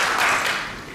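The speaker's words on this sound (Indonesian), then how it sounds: "Dengan tepuk tangan yang terbaik kepada Tuhan." Brief burst of church congregation applause during a worship service, a dense, steady wash of clapping that fades slightly toward the end, with no talk over it.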